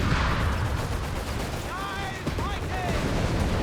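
Gunfire and battle noise from a Company of Heroes 3 match, a steady rumble of shots and blasts with some whistling, rising tones over it, including a hand grenade thrown at close range.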